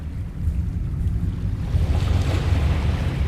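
Waves lap and wash against a monolith's base in the horror video game Dagon, a steady low surf rumble with a windy hiss that swells slightly toward the end, no voices.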